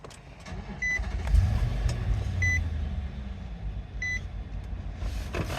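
A 2014 Infiniti QX80 engine turns over and settles into a steady low idle, with a few soft electronic chimes sounding above the engine drone.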